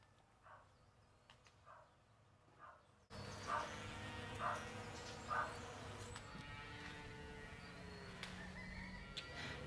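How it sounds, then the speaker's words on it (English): Early-morning farm animals call for breakfast in the distance, with barking and assorted animal calls repeating over a steady hum of insects and outdoor background noise. "If you guys can hear the animals in the background, they're all calling for their breakfast"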